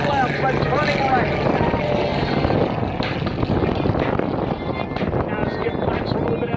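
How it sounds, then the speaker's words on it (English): Aerobatic airplane with a 400 horsepower engine roars overhead at an air show in Gaylord, Michigan, in a loud, sustained propeller drone with wind buffeting and shifting pitch as it maneuvers. "That big 400 horsepower engine absolutely getting its work out today."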